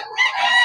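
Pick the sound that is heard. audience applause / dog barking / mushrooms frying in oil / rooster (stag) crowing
rooster (stag) crowing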